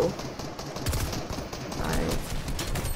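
Rapid SMG gunfire in the Fortnite Team Brawl mode, dense repeated bursts that stay loud across the whole stretch, mixed with other game noise and faint voice.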